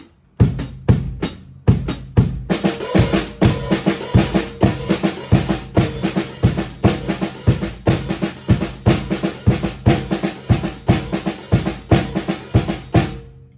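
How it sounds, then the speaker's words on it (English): A few sparse drum hits give way to a full kit groove, with thumping bass drum under busy cymbal and snare strokes in a steady, driving pattern. "Adding the feet."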